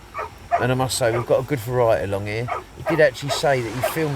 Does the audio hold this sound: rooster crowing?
no